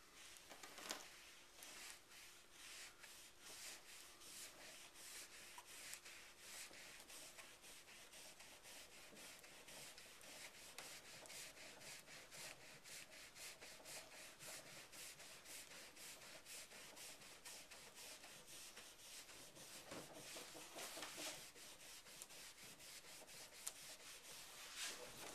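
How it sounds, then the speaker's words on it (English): Continuous, even hand rubbing as a soft t-shirt cloth rag buffs finishing wax over a lacquer finish, a steady brushy swish running throughout at low level with no talk. "I am going to start to rub out, buff the finishing wax, and see if we can't get a shine"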